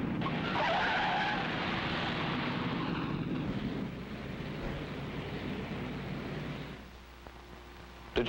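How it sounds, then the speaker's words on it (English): A car brakes suddenly on a road and skids, its tires squealing loudly and close for several seconds before the noise fades into lower road rumble. A brief knock is heard at the very end, and no one speaks. "When this car stopped suddenly, the driver behind was caught off guard and swerved into your path."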